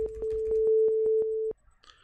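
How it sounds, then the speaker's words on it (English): Overlapping synthesized sine wave tones generated in a browser with AudioContext, mixed at a soft volume, form a steady pure tone that pulses louder and softer in even beats for about a second and a half, then stops. "Still sounds like it's getting louder and softer because these sine waves are in many cases canceling each other out"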